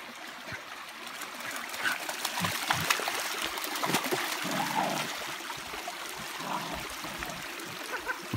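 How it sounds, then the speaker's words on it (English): Water in a creek trickles and splashes as a dog bites and chews at the surface, irregular close splashes and gurgles over a steady stream flow. "He's biting the water."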